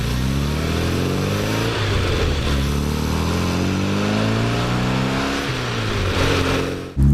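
A classic 60hp Mini Cooper drives with its engine loud and close, revving up through the gears with rising and falling pitch and a brief lift between shifts; no voices.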